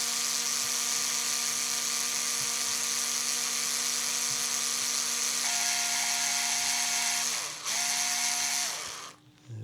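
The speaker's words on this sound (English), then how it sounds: "I got a bunch of different electric screwdrivers." An electric screwdriver runs while upgrading a brand-new Arrma Mojave 4S RC truck: a steady, close motor whine that dips in pitch and briefly cuts out near the end before spinning up again.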